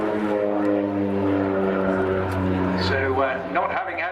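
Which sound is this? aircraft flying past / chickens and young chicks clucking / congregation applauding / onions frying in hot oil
aircraft flying past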